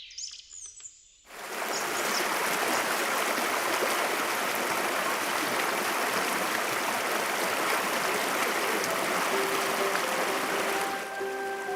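Swiftly flowing forest stream rushing in a loud, steady wash of water, starting after a moment of quiet, with faint bird chirps scattered over it.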